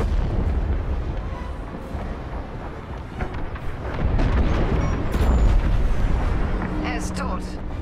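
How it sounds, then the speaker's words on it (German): Frigate blowing apart in the space-combat game Star Wars Squadrons: a sustained, loud rumbling explosion with booming bursts and crackle, swelling midway and carrying on under game voices speaking. "Die Fregatte wird gleich explodieren!"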